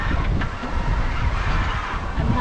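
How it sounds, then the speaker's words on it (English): Steady wind rushes and buffets across the microphone while sailing on Bras d'Or Lakes, a constant roar with no voices. "The wind is pretty consistent."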